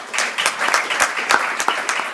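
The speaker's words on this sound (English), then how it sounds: "give yourself a round of applause for that" A short burst of clapping from a small group at a college athletics banquet, with sharp individual claps standing out in an uneven rhythm.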